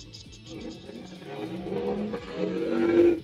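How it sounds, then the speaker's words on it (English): A loud car passes outside, its engine note rising and growing closer over a few seconds as a faint background of music or ambient sound continues underneath. "Loud car outside."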